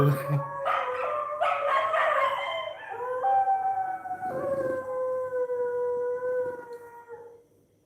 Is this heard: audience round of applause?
no